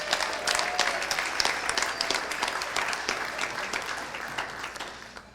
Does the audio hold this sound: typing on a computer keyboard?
no